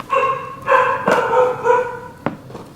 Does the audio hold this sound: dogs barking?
yes